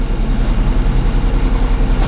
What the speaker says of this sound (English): Actually, it's not even a bad sounding engine, it's just we don't want it on